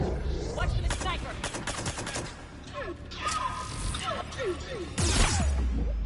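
Gunfire crackles through a Mass Effect battle: a string of sharp shots and mechanical clatter, with a loud, heavy blast near the end standing out against busy combat sounds.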